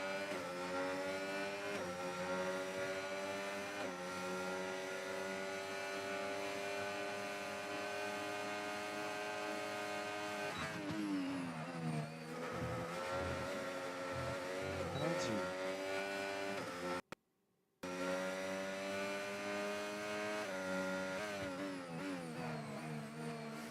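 Race cars battle closely in a sim racing video game at the Montreal circuit, their engines producing a steady, droning, high-pitched whine with overlapping tones, shifting pitches and gear changes midway, and a brief cut-out near the end.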